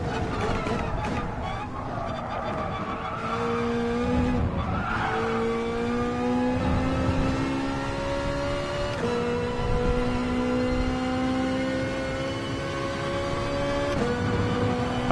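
Race car in the GT Sport video game on PS4 Pro, its engine whining in long rising gear sweeps with repeated upshifts and tire squeal, loud and steady throughout.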